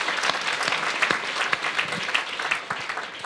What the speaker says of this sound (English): I think that deserves a little bit of applause on its own.